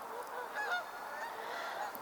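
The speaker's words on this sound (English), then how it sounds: "There is a flock of geese flying overhead right now." A flock of geese flying overhead in formation, honking repeatedly in overlapping calls that stay steady and moderately distant throughout, with no talking.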